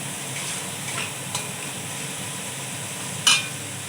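Spices for a fish curry fry in a pan while being stirred, a steady close sizzle that holds level throughout, broken by a brief sharper scrape of the spoon near the end.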